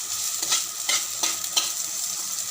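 Onion, bay leaf and five-spice being stir-fried in a pan, a steady close sizzle with a spatula scraping and stirring in regular strokes about every third of a second, no voices.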